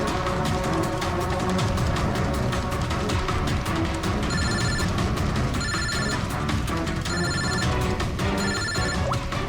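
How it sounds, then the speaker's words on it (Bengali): A phone rings in repeated electronic bursts, four or so evenly spaced, over a loud, busy background of street noise. "ফোন আসছে দাদা"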